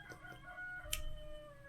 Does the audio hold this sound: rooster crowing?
yes